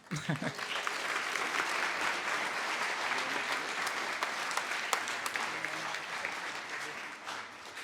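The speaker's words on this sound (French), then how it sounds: "je vous propose d'accueillir Vincenzo comme il se doit, avec vos applaudissements" A café audience welcomes a speaker with a steady, full round of applause lasting several seconds before tapering off at the end.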